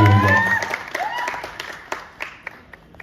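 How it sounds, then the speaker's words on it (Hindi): An audience at a Lucknow promotional event breaks into applause for producer Abhay Sinha, with dense clapping and a murmuring crowd, a voice heard at the start before the clapping thins into scattered claps near the end. "मैं चाहूंगा जोरदार ताली हो जाए।"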